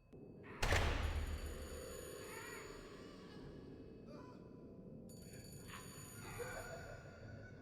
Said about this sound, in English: Wait, can I hear the phone all the way from here?